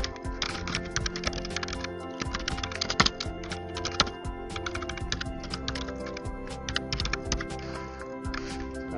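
Steady, fast typing on a computer keyboard while entering credits text in editing software, dense continuous key clicks close up and fairly loud, with no talk over it.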